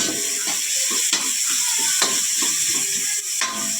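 Onion fries in a pan with crushed tomato for ginisang monggo, a constant close sizzle broken by a few scraping stirs and clacks of the utensil against the pan.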